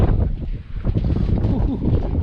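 Strong gusty wind buffeting the microphone in narrow old-town streets of Split, Croatia, a loud, rough, continuous rumble rising and falling throughout.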